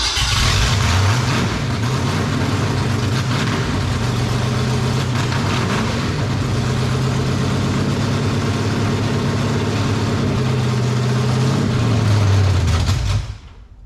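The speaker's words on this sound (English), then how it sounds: "Did you hear how quick it came up when I revved it?" A 1953 International IHC R-110 gasser truck engine revving hard and holding at high speed, loud and close, a constant roaring drone that cuts off abruptly at the end.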